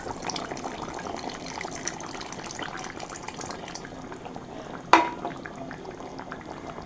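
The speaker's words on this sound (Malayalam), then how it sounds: "വലിപ്പത്തിൽ പുളിയെടുത്ത് വെള്ളത്തിൽ ഒഴിച്ച് പിഴിഞ്ഞ് നമുക്കിത് ഒഴിച്ചു കൊടുക്കാം" Tamarind water squeezed from soaked tamarind is poured into a simmering onion theeyal curry, giving a steady bubbling, liquid wash with a brief sharp splash near the end; no talking.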